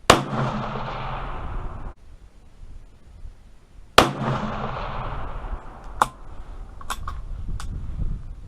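Two sharp, loud .223 Remington rifle shots about four seconds apart, fired with handloaded Hornady hollow point bullets, each followed by a rolling outdoor echo that dies away, then a few faint clicks of handling.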